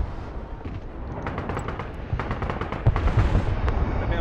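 Artillery fire in the military strategy game Broken Arrow, a dense stream of distant booms and cracks that thickens midway and grows heavier near the end, with a low rumble throughout and no talking.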